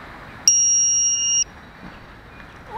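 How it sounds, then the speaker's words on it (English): A quadcopter battery checker alarm gives one steady, high-pitched electronic beep of about a second, close and clear over faint background noise. "my battery alarm."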